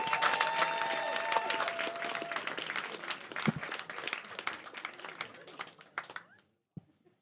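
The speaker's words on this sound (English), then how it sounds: "Giving your biggest and best round of applause." A comedy club audience in Liverpool claps as a comedian is welcomed to the stage, a dense burst of many hands that thins out and fades to near silence, with a voice briefly over it.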